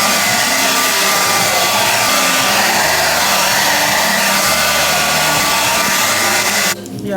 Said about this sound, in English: Yeah, I love getting my hair blow dried